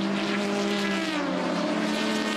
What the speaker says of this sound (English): Oh, it's gone over the fence. And it's on fire as well.